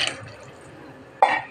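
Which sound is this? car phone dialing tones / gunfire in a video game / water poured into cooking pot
water poured into cooking pot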